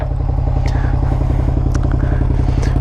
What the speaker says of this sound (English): I believe it's probably popping right now, but slow exhaust sound.